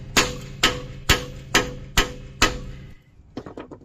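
A hammer strikes metal about six times at an even pace while a front strut is driven into its slot on a Volkswagen Tiguan in a driveway. The blows are loud, close and ringing, followed by faint clinks.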